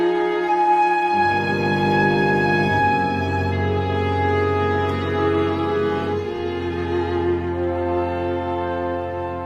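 Opening bars of Schoenberg's Chamber Symphony, sustained ensemble chords that swell and shift harmony, full and steady throughout with no voices.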